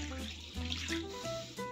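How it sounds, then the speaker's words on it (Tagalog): Water is poured from a container into a pot of Filipino tinola fish soup, a steady splashing stream with small surges and bubbling, close and fairly quiet. "Ibubuhos na po natin yung ating tubig para may sabaw yung ating tinulang isda."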